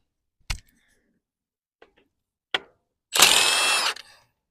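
A ratchet wrench works loose bolts on a 1953 Ford Jubilee tractor: a few sharp isolated clicks, then one close, loud burst of rapid ratcheting before it falls quiet.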